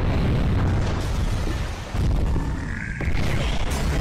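Explosions boom through a Skibidi Toilet fight animation, dense rumbling blasts that surge loudly, dip briefly, then crash again with a whooshing streak in the middle.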